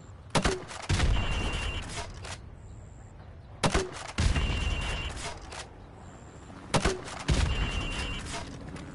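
Three grenade launcher shots fired at windows in a video game, spaced about three seconds apart, each a sharp launch followed by a longer burst of noise.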